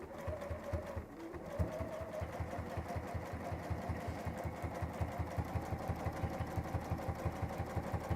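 A sewing machine runs a steady line of stitching on a bag, its needle chattering in a fast, even rhythm close by, with a brief slowdown near the start.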